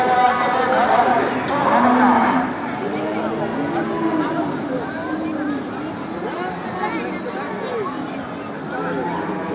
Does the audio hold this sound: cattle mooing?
yes